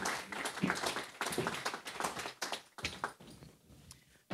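Audience applause at a conference breakfast, a fairly quiet stretch of scattered hand claps that thins out and fades toward the end.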